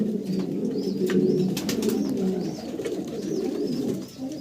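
Pigeons coo repeatedly in a breeder's loft where birds are shown for sale, a steady layered murmur of low cooing close by with a few faint higher chirps, no talk.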